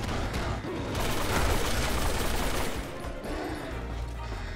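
Rapid gunfire from a Resident Evil 6 firefight, a dense, continuous barrage of overlapping shots that stays loud and close throughout, with a brief dip near the end.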